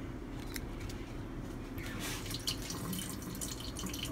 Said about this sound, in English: drain your tofu, and you want to smell the tofu